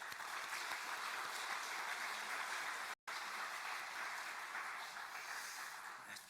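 A church congregation at a Sunday festival service gives the choir dense, sustained applause that fills the room steadily, broken only by a split-second dropout midway, with no voices over it.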